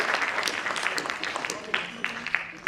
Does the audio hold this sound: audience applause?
yes